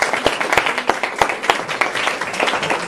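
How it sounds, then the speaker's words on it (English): An audience applauds at the end of a talk on age-friendly community initiatives in Toronto, a lively crowd patter with distinct near claps standing out, steady for the whole stretch without speech. "I think a round of applause would be appropriate."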